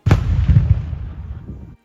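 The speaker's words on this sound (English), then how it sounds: "We took time out of our tour to see the cannon that's fired daily at noon." A ceremonial noon cannon fires in Old Quebec City with a single deep boom, close and loud, followed by a rolling low rumble that echoes and fades over about a second and a half.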